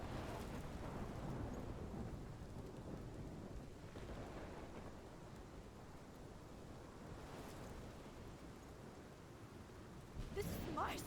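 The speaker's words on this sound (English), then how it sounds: "This is my storm. I caused this." Thunderstorm in the video game Life is Strange: steady heavy rain hisses with low rolling thunder, and a sharper crack comes near the end, with voices faintly underneath.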